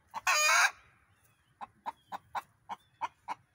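A hen gives a loud squawk, then a steady series of sharp, evenly spaced clucks close by, the typical call after laying an egg.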